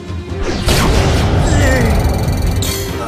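Dark Magician Girl's Dark Burning Attack in the Yu-Gi-Oh Duel Links card game, a dense, loud booming blast with whooshing sweeps and crackling, sustained for about three seconds.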